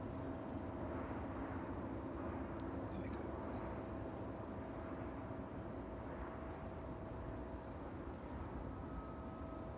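A DHL Boeing 767 cargo jet taking off from runway 27 at East Midlands Airport on a chilly evening, a steady, far-off engine roar that holds evenly throughout.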